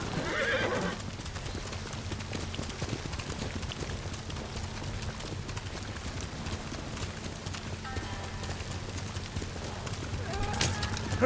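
Horse hooves clip-clop at a steady pace in the game Ghost of Tsushima, with a whinny and a drone of in-game ambience continuing throughout.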